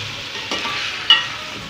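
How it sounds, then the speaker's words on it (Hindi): Taro and brinjal being stirred into a frying spice masala, a steady sizzle with two brief scraping knocks of the spoon, close and alone without talk. "मसाले में इसको हम अच्छी तरीके से मिक्स करेंगे"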